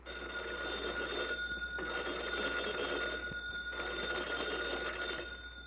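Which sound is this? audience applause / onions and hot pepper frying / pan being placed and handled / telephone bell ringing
telephone bell ringing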